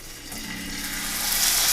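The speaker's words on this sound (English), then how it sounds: "See if we get a nice sizzle." Skirt steak searing in a hot pan set on high heat, giving a steady broadband hiss that swells slightly louder over the short span, with no talking.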